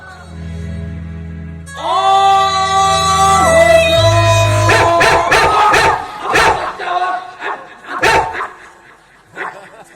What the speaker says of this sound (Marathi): कुत्रे भुकून राहिले तुझ्या गाण्याला।